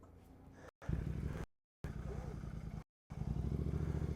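A Royal Enfield GT650 motorcycle rides with a close, throbbing engine drone, cut by brief gaps of silence, while a rider speaks over it.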